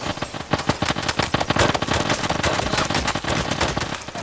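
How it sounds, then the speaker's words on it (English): Heavy automatic gunfire from a building in the video game Arma 3, with dense, rapid bursts of shots continuing loud and close throughout. "Taking heavy fire from the building thing."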